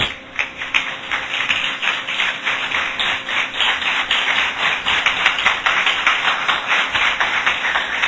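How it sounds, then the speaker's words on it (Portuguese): A church congregation claps in a steady rhythmic beat, many hands together, loud and continuous with a faint electronic hum underneath. "Pode tomar o seu assento, desocupar as suas mãos e aplaudir a palavra de Deus"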